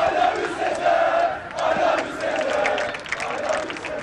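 Fenerbahçe supporters chant rhythmically for Sezer Öztürk at a Samandıra gathering, a loud massed crowd of voices rising and falling in steady waves, with cheering mixed in and no clear speech.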